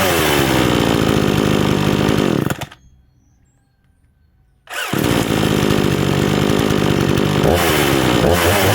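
A Parkside Performance PPKBS 56 petrol chainsaw roars loudly and steadily, cuts out for about two seconds, then revs back up to full throttle, close by.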